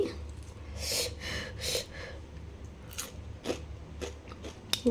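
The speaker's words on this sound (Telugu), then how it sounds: "వేడి వేడి ఫిష్ ఫ్రై కూడా రెడీ అయిపోయింది నేను టేస్ట్ చూస్తా" Someone bites into hot, crispy home-made fried fish. Close crunchy bites and chewing come in short bursts over a quiet room, without speech.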